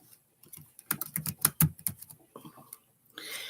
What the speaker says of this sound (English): Let me type it in here.